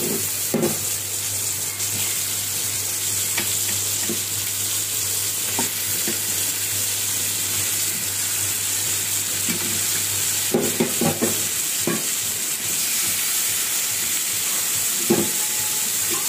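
Meat and potatoes fry in a spiced masala while being stirred, giving a steady loud sizzle with scraping spoon strokes throughout, close up and with no talk.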